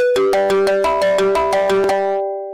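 A phone ringtone plays loudly and alone, a bright repeating melody of quick electronic notes lasting about two seconds before cutting off.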